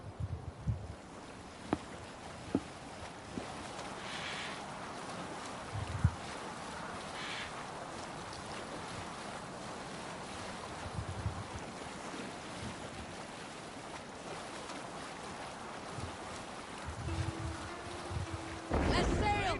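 A longship sailing in Assassin's Creed Valhalla, with steady wind and waves rushing against the hull, occasional creaks and knocks, and a louder gust near the end, with faint voices under the water noise.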